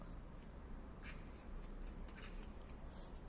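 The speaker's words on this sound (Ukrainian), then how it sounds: "погано ріжеться цими ножицями" Small household scissors snip through a doubled ribbon in a series of faint, crisp cuts, quiet and close by, with no one speaking.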